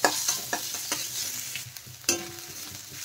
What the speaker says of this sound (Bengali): পেঁয়াজগুলো এরকম হালকা ভেজে নেব। আর গ্যাসের ফ্লেমটা কিন্তু হাইতে রাখতে হবে